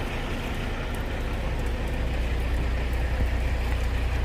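Steady rain falls on a rainy day, a dense, even hiss with low rumble filling the whole stretch at constant loudness, with no voices.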